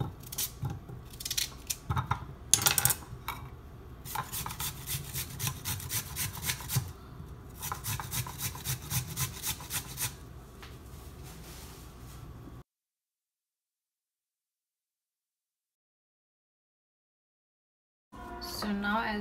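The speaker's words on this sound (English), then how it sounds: "Then now I'm going to grate it really fine." Beetroot rasps rapidly against a fine grater in a kitchen, a dense run of close scraping strokes for about twelve seconds, then silence and a short return of sound at the end.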